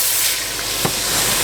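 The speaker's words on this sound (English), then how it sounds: "we need to add 1 cup of red wine to deglaze our pan" Red wine poured into a hot pan of browned beef for stroganoff, hissing and sizzling steadily as it deglazes, with one brief sharper burst partway through; no talking.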